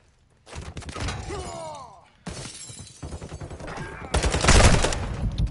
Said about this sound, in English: He shot me through the window.